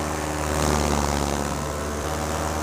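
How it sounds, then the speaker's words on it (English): A propeller aircraft engine runs at full throttle close to an airfield, a loud, steady droning roar with a strong buzzing tone that holds unbroken throughout. "put the propeller through the full throttle band"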